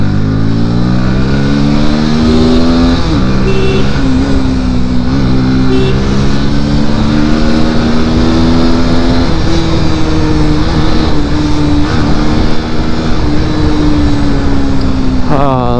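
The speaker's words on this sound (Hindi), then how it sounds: "तो भाई साहब इतना भयंकर ट्रैफिक" Riding a motorcycle through heavy road traffic brings a loud, continuous engine drone with rising and falling revs as it accelerates and shifts, wind buffeting the microphone throughout.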